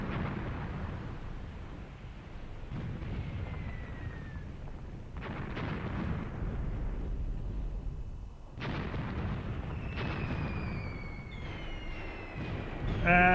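Distant artillery booms and gunfire roll across a World War II battlefield in Graviteam Tactics, heavy low rumbling thuds recurring every few seconds with faint whistling and crackling shots, fairly quiet overall.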